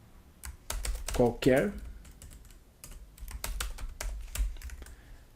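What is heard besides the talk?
typing a text on a computer keyboard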